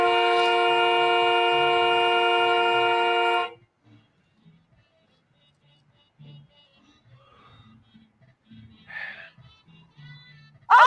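A loud, sustained vehicle horn blares steadily for about three and a half seconds, then cuts off, leaving quiet low rumbling and a few faint scattered sounds.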